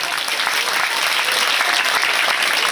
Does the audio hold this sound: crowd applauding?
yes